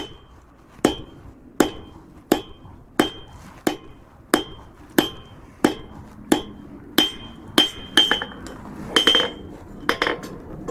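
Hammer blows forging a short taper on a small forged iron cabinet handle, a steady series of about seventeen sharp ringing strikes spaced roughly half a second to a second apart, close and clear with no talk.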